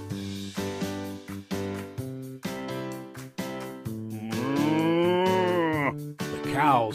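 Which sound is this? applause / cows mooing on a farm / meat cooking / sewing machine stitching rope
cows mooing on a farm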